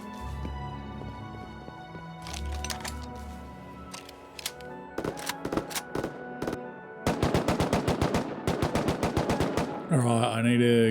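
AK rifle gunfire in the survival game Rust: scattered single shots give way to rapid full-auto bursts, loud and close, with a sharp whooshing effect at the end.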